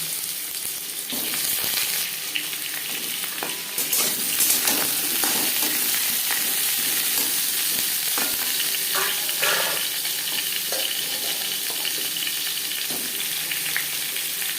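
Diced potatoes frying in refined oil for a vegetarian potato and pointed gourd curry, a steady close sizzle with frequent scraping and stirring clatters of a spatula against the pan, no voices.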